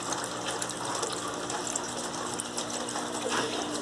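An Electrolux Turbo Limpeza 8 kg top-loading washing machine runs with water, giving a steady, fairly loud wash of churning, gushing water and mechanical hum throughout, with no talk.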